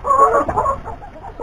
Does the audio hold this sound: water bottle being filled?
no